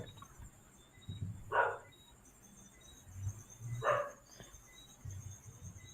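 A dog barks twice in the background of a home livestream, each bark short and sharp, a few seconds apart, over a low room hum and faint background noise.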